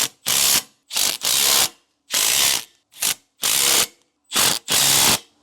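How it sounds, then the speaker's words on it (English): A ratchet with a 9/16 socket tightens disc brake bolts from a DeeMaxx trailer brake kit, giving six close, loud bursts of rapid clicking separated by short pauses, with no other sound. "Now we'll use that same 9/16 socket and a matching wrench and tighten these down"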